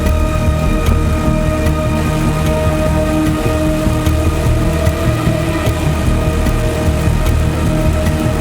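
Heavy monsoon rain pours down in Himachal Pradesh during flooding of the Beas River, a loud, dense and steady roar of water with no gaps.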